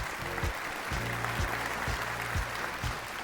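A television talent show audience claps steadily on a Pakistani gala-round stage, the applause filling the room at a fairly even level with a faint low rumble beneath.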